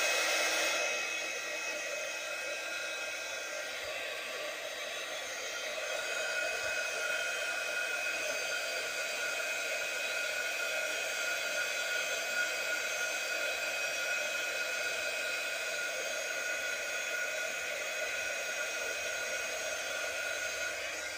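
A heat gun runs continuously for hot embossing on a small card, a steady close whooshing blower hum with a slight dip around five seconds, no voices.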